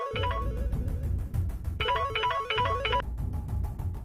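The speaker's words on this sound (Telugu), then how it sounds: "అత్త ఈ టైంలో ఫోన్ చేస్తుందంటే" A mobile phone ringtone plays a repeating electronic melody in two bursts separated by a short pause, loud and close over a low background bed.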